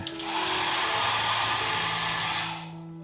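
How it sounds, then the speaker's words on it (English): A hair dryer in a cruise ship balcony cabin roars steadily for about two and a half seconds with a broad airy whoosh and a low motor hum, then cuts off and winds down. "the hair dryer works"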